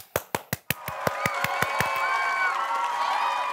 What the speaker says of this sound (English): let's give a big round of applause for the So-and-So Show Players